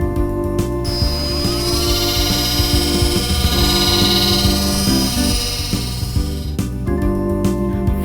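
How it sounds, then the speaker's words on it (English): A drone hovers in flight, its rotors giving a loud, continuous high-pitched whine with a steady pulsing buzz beneath, sustained for several seconds without talk. "Fly the drone."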